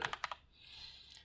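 Four quick keystrokes tapped on a computer keyboard, quiet and close, followed by a brief faint hiss.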